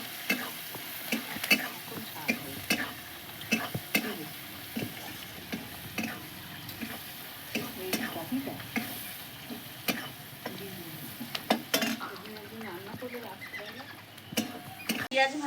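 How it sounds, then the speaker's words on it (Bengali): Onions fry in hot oil for a fresh river fish curry, with a soft steady sizzle broken by repeated scraping strokes of a spoon stirring in the pan, close and moderately loud. "পেঁয়াজটা একটু ভাজা ভাজা করে নেবো"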